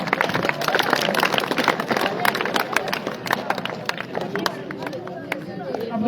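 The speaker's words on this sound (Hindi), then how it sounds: "बहुत सारी तालियां।" Audience applause at a school award ceremony, sharp individual claps and scattered clapping over crowd chatter and voices, lively but uneven, fading slightly toward the end.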